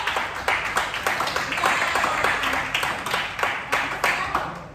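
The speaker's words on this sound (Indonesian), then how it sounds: "Oke, tepuk tangan dulu." Students in a classroom clap together in a brief round, the claps close and fairly loud, coming in quick uneven bursts that rise and fall in waves.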